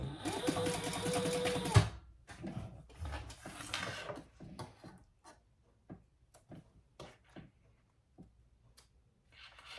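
Sewing machine stitching a tote bag, a fast steady mechanical whir for about two seconds, then scattered clicks and handling knocks as it slows and stops.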